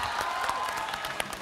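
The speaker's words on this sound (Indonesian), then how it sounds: "Tepuk tangan dulu dong sekali lagi." Studio audience applauding at a televised singing competition semi-final in Indonesia, a dense steady wash of clapping and crowd noise filling the whole short stretch with a brief louder burst near the end.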